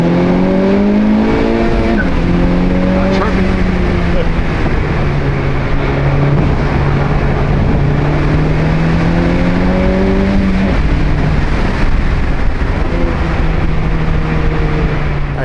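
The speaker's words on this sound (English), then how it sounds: "this is my guy Mike's Civic Type R. We just went for a rip." Honda Civic Type R driven hard, its engine loud and close as it revs up through several gears in repeated climbing sweeps, each pull dropping sharply at the shift before rising again.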